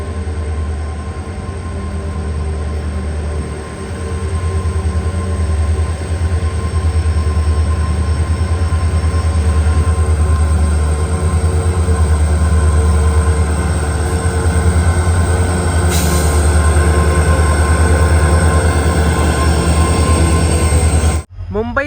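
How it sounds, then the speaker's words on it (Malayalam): The Duronto Express from Mumbai Lokmanya Tilak Terminus to Ernakulam Junction, hauled by a WP4 locomotive, arrives at Sawantwadi Road station on the Konkan Railway with a loud, continuous rumble, clattering wheels and high squeals running close by throughout. "മുംബൈ ലോകമാന്യ തിലക് ടെർമിനസിൽ നിന്നും എറണാകുളം ജംഗ്ഷനിലേക്ക് പോകുന്ന ദുരന്തോ എക്സ്പ്രസ് 4 മണിക്കൂർ ഡിലേ ആയിട്ട് ഇതാ കടന്നു വരികയാണ്"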